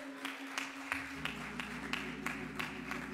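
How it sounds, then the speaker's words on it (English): A church congregation claps in praise during a Sunday morning service, a steady run of sharp, evenly spaced hand claps under a sustained low organ-like tone, moderately loud and close. "Let's give God a hand clap of praise this morning."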